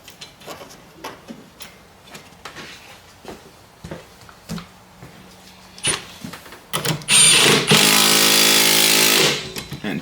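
An impact wrench drives header bolts on a 2022 Toyota Corolla hatchback during a 2JRacing header install. Scattered clanks and taps lead into one loud, close burst of rapid rattling hammering lasting about two seconds near the end.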